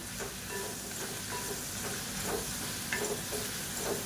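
Tomatoes and a handful of coriander leaves sauté lightly in a pan for a chutney, giving a steady soft sizzle with occasional stirring scrapes, close and even throughout.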